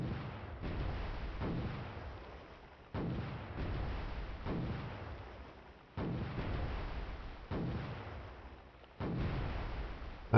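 In the naval game Cold Waters, an enemy surface vessel fires its guns in a series of heavy booming reports about every one to three seconds. Each low, deep blast rumbles and fades before the next one lands.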